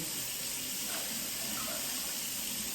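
Tap water runs into a pot in a kitchen during cooking, a steady close hissing rush that carries on without a break and with no talk.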